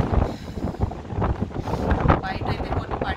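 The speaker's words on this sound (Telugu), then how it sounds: "లోపల కూర్చుంటేనే ఆ చిన్న ఏరియాలో నుంచి ఇంత విండ్ వస్తుంది" A strong storm wind blows into a resort reception in Oia, Santorini, Greece, as a loud, continuous buffeting rush that rumbles against the microphone throughout.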